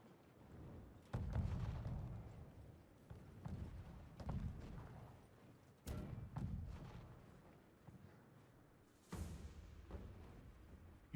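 Cannon fire strikes a battering ram in a strategy video game, giving a series of heavy booming thuds spaced a few seconds apart over a low rumbling battle background.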